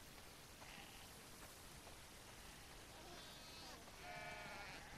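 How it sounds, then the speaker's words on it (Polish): Sheep bleat from inside a barn in The Last of Us Part II, with several short calls rising over a steady wash of rain-like ambience, the clearest bleats near the end, moderately close. "Rany, sporo tych owiec."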